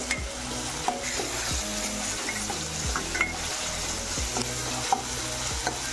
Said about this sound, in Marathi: हिरवी मिरची, लसण व कोथिंबीरीचं छान आपल्याला 1-2 मिनिट आपण हे वाटण कांद्यामध्ये शिजवून घेणार आहोत